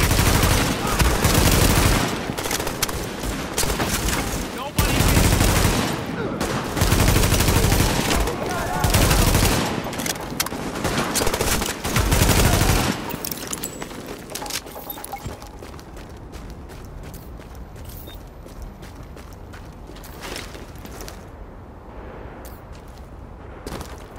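Heavy gunfire from a firefight in Tom Clancy's The Division, with dense bursts of automatic fire and sporadic shots for about thirteen seconds, then thinner, more distant shooting trailing off under game ambience.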